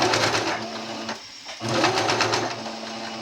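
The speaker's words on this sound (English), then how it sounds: "Let the sewing machine fold the fabric for you." A home sewing machine with a rolled hem foot runs fast rapid stitches, a loud close whirring burst that stops briefly for a fraction of a second and then starts up again.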